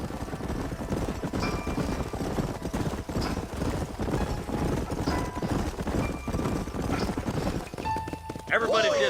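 Horses trot steadily with riders in Red Dead Redemption, a continuous rhythmic clip-clop of hooves with an occasional whinny, up close and loud, with game voices talking over parts of it.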